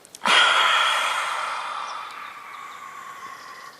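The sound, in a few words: lion's breath yoga exhalation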